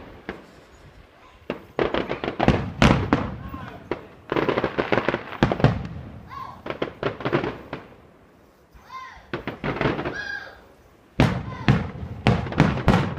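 "Shooting clouds" fireworks going off outdoors on a summer night in a long series of loud, sharp bangs and crackling bursts, some in rapid clusters with short pauses and a few whistles, while a person speaks and exclaims between blasts.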